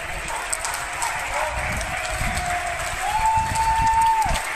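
An audience applauds in a steady patter of many hands, moderately loud and continuous for several seconds, while a voice speaks over it and a faint tone rises briefly near the end.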